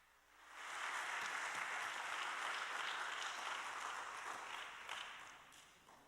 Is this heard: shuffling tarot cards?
no